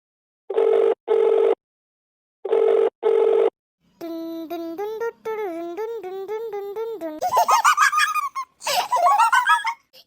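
A phone call is placed in a video game: two paired bursts of ringback tone sound, then a warbling electronic ring that rises into louder, chirping tones.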